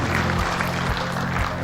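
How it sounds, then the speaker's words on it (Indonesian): An audience in Jambi, Indonesia, applauds Apersi in a short burst of dense, steady clapping and crowd noise throughout. "Tepuk tangan untuk Apersi."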